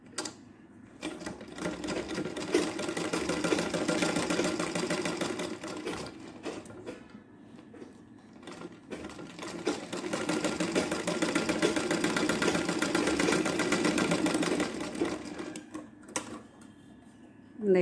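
A sewing machine stitches the side of a blouse latkan tassel, running in two long steady bursts of rapid mechanical chatter with brief pauses between, close and fairly loud.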